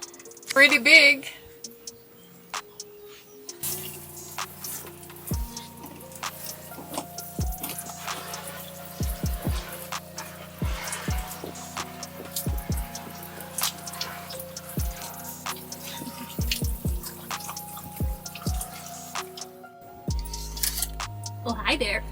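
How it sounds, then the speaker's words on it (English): Water from a shower in a converted camper van runs and patters steadily for most of the stretch, with intermittent drips and clicks, close and moderate in level, ending with a brief handling noise. "let's demonstrate the shower real quick."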